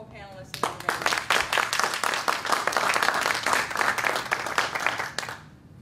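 An audience applauds panelists at a home construction and energy-saving event, with dense clapping swelling in after a brief pause, holding steady for several seconds, then tapering off.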